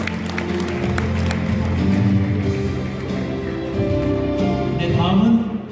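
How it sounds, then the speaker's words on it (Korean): Audience applause at a Cheongju High School centennial celebration, where commemorative plaques are presented at a year-end evening event, sustained clapping from a crowd filling the hall, swelling slightly near the end. "박수 부탁드립니다"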